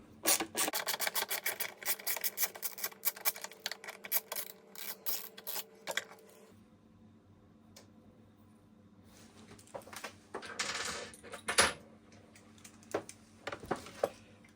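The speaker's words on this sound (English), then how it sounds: "You take a T25 Torx on this screw here, one single screw." A single screw on a BMW F 900 GS is loosened with a T25 Torx from the toolkit, giving close scraping, rasping clicks in a busy burst, then quieter intermittent scrapes and handling noises, with no talking.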